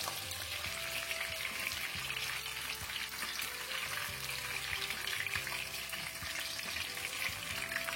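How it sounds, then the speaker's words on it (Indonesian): Jengkol beans frying in hot oil while being turned over again and again, giving a steady, dense sizzle with scraping stir noises throughout. "Digoreng tidak perlu terlalu lama, cukup sebentar saja, dibolak-balik terus seperti ini."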